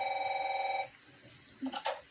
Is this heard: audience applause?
no